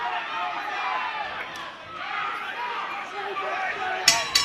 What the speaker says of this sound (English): The crowd on their feet here at the Tarolgan Sports Stadium.